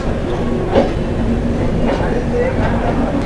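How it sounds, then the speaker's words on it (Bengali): Howrah Dibrugarh Kamrup Express train entering platform 9 at Howrah station, a steady low rumble of the rolling train with faint clanks, under constant station noise and background voices. "হাওড়া স্টেশনে ন নম্বর প্ল্যাটফর্মে ঢুকছে হাওড়া ডিব্রুগড় কামরূপ এক্সপ্রেস"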